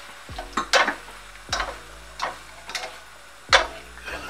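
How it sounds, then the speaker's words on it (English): A spoon clinks and scrapes against the pan while coconut cream is stirred into shrimp curry cooking on the stove, a few distinct strokes over a soft sizzle, close and moderately loud. "I'm gonna add some coconut cream to the mix."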